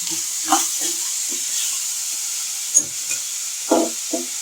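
Tamarind and grated coconut sautéing in a pan for chutney: a steady soft sizzle and hiss under sparse scraping stirs of a spoon against the pan, close and fairly quiet.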